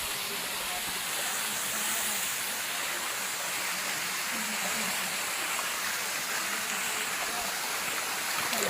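Water flowing over rocks on a mountain, a steady broad rushing hiss like a stream or small waterfall, continuous and close with no clear breaks.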